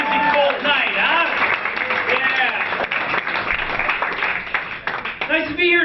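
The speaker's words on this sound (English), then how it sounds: "Give yourselves a round of applause for making it out on a freezing cold night, huh?" A comedy club crowd in Philadelphia on a freezing night claps and cheers for a stand-up set, a dense, steady wash of applause lasting several seconds with voices mixed in.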